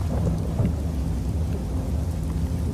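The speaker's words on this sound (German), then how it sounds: "Ich finde das hier gerade geil mit dem Gewitter und allem drum und dran." Rain pours steadily in a thunderstorm in the video game Skyrim, with deep rolling thunder rumbling underneath throughout; no one speaks.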